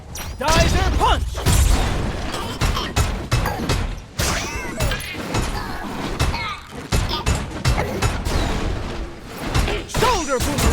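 Grendizer's punch attack in the UFO Robot Grendizer game lands as a string of heavy slamming impacts and metallic crashes, loud and close, mixed with shouted voices and game effects.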